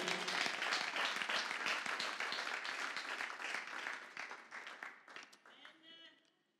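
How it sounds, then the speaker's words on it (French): A church congregation claps in praise, a dense crowd of hand claps mixed with cheering voices that holds strong for several seconds, then thins and fades out as a few scattered claps remain. "And we clap up for the Lord."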